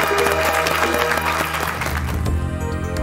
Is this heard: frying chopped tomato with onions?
no